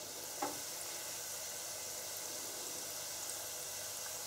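Churros frying in a fryer of hot oil, a soft, even sizzle that holds steady throughout, with one faint clink near the start.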